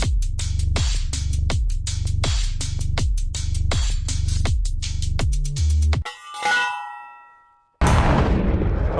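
A Strainrite manual post driver's heavy weight clangs against steel in a rapid, steady run of loud, close metallic strikes, then one ringing clang fades out before a burst of rough noise.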